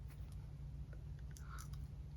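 Quiet, wet chewing sounds with soft irregular bites and mouth noises, close up, over a steady low hum with no talking.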